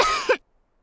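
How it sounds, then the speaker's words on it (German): A cartoon character gives a short, harsh cough near the end of a brief burst of sound in a German-dubbed Peppa Pig episode, then silence. "Petros Husten ist ansteckend"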